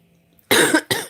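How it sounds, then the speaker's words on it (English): Two sharp, close coughs from one person, a harsh burst followed quickly by a shorter second one, with no talk. "I still can't get rid of this cough."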